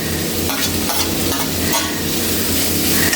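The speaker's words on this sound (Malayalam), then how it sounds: "ഇതെല്ലാം ഒന്ന് നല്ലോണം ഒന്ന് സോട്ട് ചെയ്തെടുക്കുക" Chopped cabbage, capsicum and carrot sauté in a hot pan, a dense, loud continuous sizzle with constant stirring close up.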